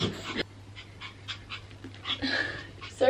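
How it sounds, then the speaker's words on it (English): A small, hyper chihuahua pants and whimpers up close in quick breathy bursts mixed with thin whines, while people talk intermittently around it. "He's a chihuahua."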